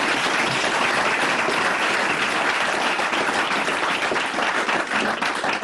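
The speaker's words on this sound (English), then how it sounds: "Can I get another round of applause for our two speakers?" An audience applauds two speakers at the close of a community event, with dense, steady clapping filling the room throughout and no voices above it.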